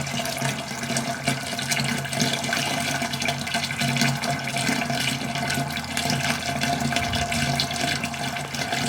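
Sweet liquid from a corn moonshine mash draining out, a steady, close rush of running water that holds level throughout with no talking.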